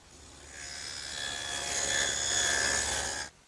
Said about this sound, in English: And I'll do that over on the table saw.